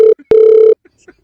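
A telephone rings with two loud electronic tones, one short and one longer, separated by a sharp click and followed by quiet with faint scattered sounds.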